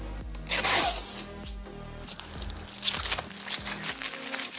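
Plastic wrap is pulled and peeled off the bottom of a monitor stand, giving close crinkling and rustling with a loud tearing swish at the start, then smaller crackles and handling knocks.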